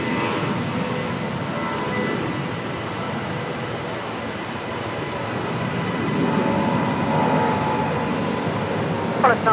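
A Qantas airliner landing at Brisbane Airport, heard as a steady, loud broadband jet roar that holds for the whole stretch, with a slight swell toward the end.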